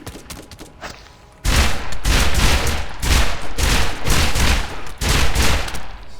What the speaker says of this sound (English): that's a low-quality S&S machine gun he's got for sure